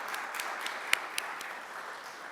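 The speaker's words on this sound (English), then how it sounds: "So I just want to give you a round of applause." Applause at an Eagle Scout Court of Honor, a soft, steady patter of many hands heard from a distance, with a couple of sharper nearby claps standing out.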